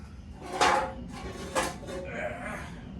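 A removed car transmission oil pan, previously welded, is handled in a garage, giving two sharp metallic clanks with a lighter scrape between them, close by and fairly quiet over a low background hum.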